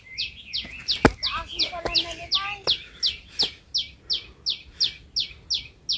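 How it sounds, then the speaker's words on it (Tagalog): Birds chirp in a fast, regular series of bright repeated notes, fairly close, on a hiking trail on Mount Butler Road, Hong Kong, with a few sharp clicks and a brief murmur of voices early on. "ang ganda, maririnig mo talaga yung huni ng ibon"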